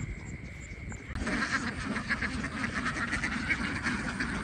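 Ducks quack steadily in a flock during morning egg collection on a flooded field, a dense continuous chorus that swells after the first second and stays loud and close.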